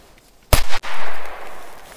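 A small triangle firecracker bursts in the snow with one loud, sharp bang close by, followed by about a second of lingering hiss and rumble that slowly fades.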